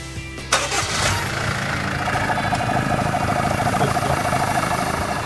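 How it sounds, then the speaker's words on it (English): A car engine cranks and catches with a sharp burst, then settles into a loud, steady idle that runs on close by, alone and without talk, in the lead-up to a steam-cleaning spray. "Then just start the engine."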